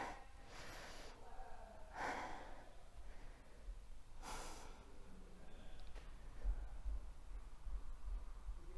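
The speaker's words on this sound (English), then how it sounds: "Big breath." A few deep, breathy inhalations and exhalations during a banded workout cool-down, soft and close, spaced across the stretch of quiet.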